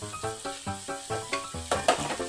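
Glass noodles with mixed vegetables and minced pork are stir-fried in a pan with two spatulas, producing a steady rhythm of scraping and tossing strokes over a sizzle, with a few sharper metallic clinks near the end.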